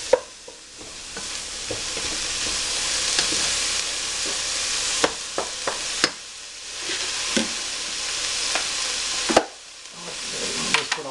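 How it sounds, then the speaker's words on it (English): Paprika being stirred through food in a frying pan while preparing a pasta pie, a steady sizzle under repeated scraping strokes and a few sharp clinks of the utensil against the pan, close and without speech. "Mix that paprika in there nicely."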